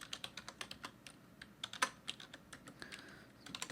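Computer keyboard keys clatter in quick, uneven taps, a steady run of soft close clicks with one sharper keystroke midway, recorded quietly with no voices.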